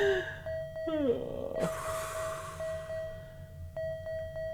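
Repeated electronic beeping from a PC during a build, steady tones recurring at intervals with brief chirps, sounding near and persistent alongside a person's voice and breathing.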